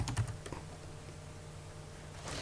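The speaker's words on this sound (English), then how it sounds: "if I just type in strobe photography" Keys clatter on a computer keyboard in a quick burst of taps at the start, then a faint hum as an internet search is entered, with nobody talking.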